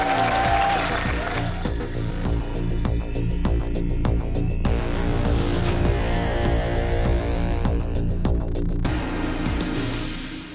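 Studio audience applause fills a Korean KBS television variety show set, a steady, dense wash of clapping running the full length with music playing beneath it.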